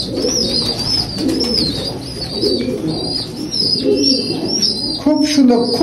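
Cooing and soft calls from a pair of Teddy pigeons, a steady murmur of overlapping coos running without pause under higher chirps.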